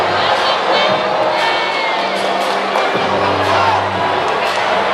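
Large indoor crowd at a men's college volleyball match, Hawaii against Grand Canyon, booing during a replay challenge, a steady broad roar of many voices with scattered shouts and whoops throughout.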